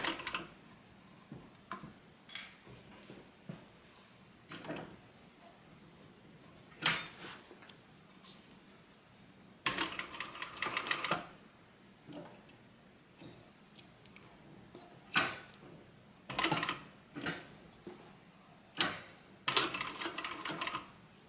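A sewing machine stitches a fabric bag in short, separate bursts of rapid clatter, with quiet pauses between the runs of stitches.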